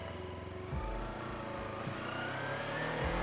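A street motorcycle rolls slowly over loose gravel near Carson City, Nevada, its engine a steady close drone with a few soft crunching thumps from the tyres.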